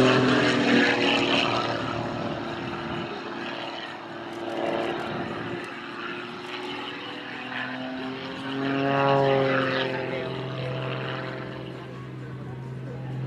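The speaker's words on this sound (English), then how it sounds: "You can hear that cracking of the propeller when the tips of the blades go through the sound barrier." A Pitts Special aerobatic biplane flies overhead at an air show at Weston Park, its propeller engine droning loud and steady with a rasping, cracking edge that swells and fades in pitch as it passes.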